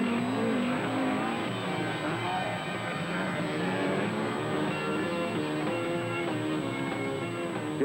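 Rally cars from Ford, Lancia, Toyota and Datsun race flat out on a 1970s Acropolis Rally special stage, engines roaring continuously and loudly with shifting revs, no talk.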